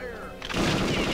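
Gunfire erupts in the Perfect Dark video game, a loud, dense burst that cuts in suddenly after a brief tonal sound.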